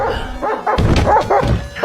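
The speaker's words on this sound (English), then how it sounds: "The neighbor's barking dog interrupted our conversation." A neighbor's dog barks several times in quick succession, fairly close and loud, with short yips and whimpery tones between barks.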